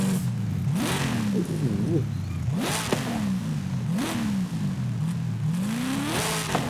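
A Dodge Charger SRT Hellcat V8 revving in Forza Horizon 5: repeated throttle blips rise and fall over a steady deep idle rumble, about five rev surges, loud and close, with no talking.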